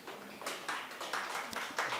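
Audience applause at a Korean social-service investment exchange event as a startup CEO is invited to the stage, a dense wash of many hands clapping steadily throughout, moderately distant and without talk.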